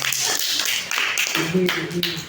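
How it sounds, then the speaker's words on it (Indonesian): A small group claps hands during a lesson on voluntary prayers, brisk close claps at first, then a voice talks over the fading clapping. "Tepuk tangan buat semuanya."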